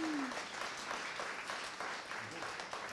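Sustained audience applause at an evening film event honoring a festival film, a dense wash of clapping that stays steady and fairly loud throughout, with a faint voice briefly at the start.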